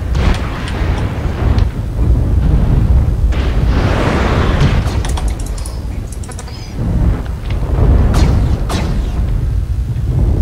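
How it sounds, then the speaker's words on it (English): An incoming missile explodes in a video game, producing a sustained, loud, dense roar of blasts and rumbling that continues through the whole stretch with brief surges. "Warning, incoming missile."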